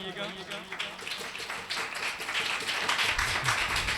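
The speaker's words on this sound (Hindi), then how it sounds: "जोरदार तालियां बजाइएगा" A church congregation at a Christmas service breaks into clapping that builds from scattered claps into fuller applause, with voices talking over it.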